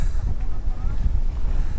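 Heavy low rumbling wind buffeting the microphone at a night motorcycle campsite, steady and loud throughout with gusty surges.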